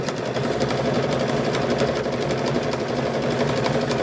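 Sewing machine stitching a car seat cover, running in a steady, continuous rapid drone throughout with a dense mechanical rattle, close and fairly loud.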